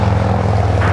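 An airliner takes off from runway 24 left at LAX, its loud engines a steady low roar that holds without a break.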